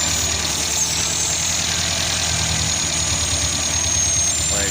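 Carbureted 1987 Mazda B2000 engine running steadily with a Weber 32/36 DGV adapter-plate vacuum leak, idle shifting as carb cleaner is sprayed at the leak; a continuous close mechanical drone with no talk.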